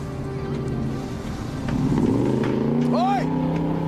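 A car engine runs loud and steady, swelling as it revs higher partway through during a police stop, with shouting voices over it.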